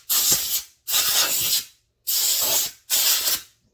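Four bursts of cleaner sprayed from an aerosol can onto a Husqvarna 385XP chainsaw during porting work, each a loud, close hiss lasting under a second with short gaps between, no talk.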